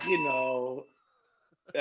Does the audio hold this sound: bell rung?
yes